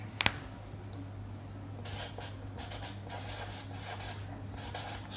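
Marker or chalk writing a mountain range name on a classroom board, a steady scratchy stroking that runs through most of the stretch, close and moderately loud over a low background hum, with no talking.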